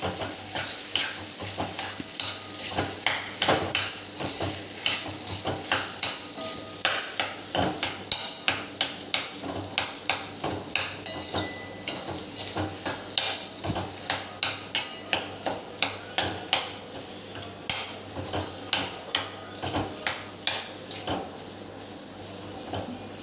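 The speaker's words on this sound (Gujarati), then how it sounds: "હવે આ બધું એક વખત બરાબર મિક્સ કરી લેવાનું" A spoon steadily scrapes a spiced filling with sugar and lemon juice around a hot pan for taro-leaf samosas. The rhythmic, close strokes run over a soft, continuous sizzle.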